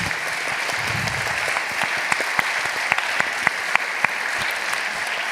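A room full of people applauding steadily, a dense wash of clapping with a few sharper claps standing out near the end.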